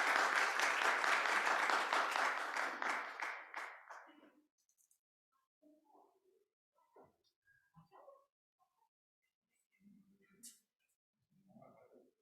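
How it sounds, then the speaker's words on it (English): Audience applause welcoming guests at an event, a loud sustained burst of clapping that fades out over about four seconds, followed by scattered quiet voices and small noises. "Let's welcome them with a warm welcome of a round of applause"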